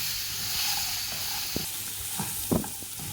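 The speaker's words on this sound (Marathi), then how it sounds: "त्या व्यवस्थित मी आता तेलावर परतून घेते।" Brinjal and potato chunks stir-fried in hot oil for a Marathi mixed vegetable bhaji, a steady close sizzle broken by a few soft scrapes and knocks of the spoon in the pan.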